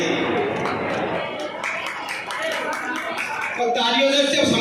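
Audience clapping at a district ceremony closing an Azadi Ka Amrit Mahotsav event in Etah, a steady patter of many hands under crowd chatter and a speaking voice, swelling a little louder toward the end.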